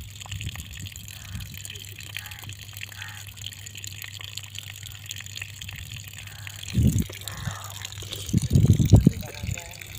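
Water gushes steadily from a village hand water pump, a continuous splashing rush that swells louder toward the end while voices talk over it.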